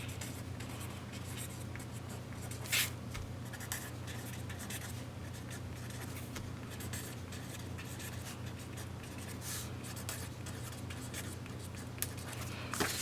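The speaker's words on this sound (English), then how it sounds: "I'm also going to write the page number on here" A pen scratches across a paper workbook page, writing a page number in soft, continuous strokes with small pauses, quiet and close, without speech.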